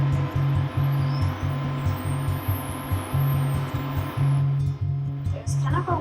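Secura Duxtop 9100MC induction cooktop heating a pan of water gives off a rhythmic pulsing buzz with a faint high whine, steady and close, with a voice speaking over it.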